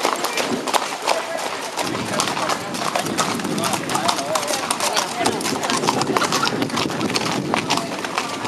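Many horses clip-clop along a road during a cavalcade in Turrucares, making a dense, continuous patter of hoofbeats close by while people shout and talk over it.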